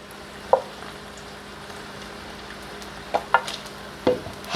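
Bacon fries in a pan with a faint, steady sizzle, and a few sharp scrapes and pops rise above it as the strips are stirred and moved.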